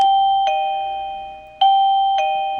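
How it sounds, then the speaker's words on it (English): A two-tone electronic doorbell chime rings out clearly, sounding twice in succession, close and loud with a lingering ring after each tone. "They were already automatically synced and have a doorbell tone, so this should be it."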